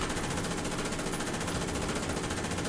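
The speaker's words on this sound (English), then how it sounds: "Give it this guy a taste of the MG34." Sustained MG34 machine gun fire in the War Thunder tank game: a continuous, loud, rapid stream of shots that runs unbroken for the whole stretch, with no talking.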